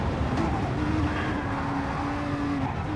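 Race car engine droning steadily as the car pulls out of the pit lane at Suzuka in a Gr3 racing video game, loud and close with a constant tonal whine and no talk over it.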